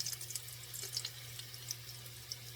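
Water runs from a kitchen tap to rinse out a cast iron skillet, a faint, steady splashing stream with no talking.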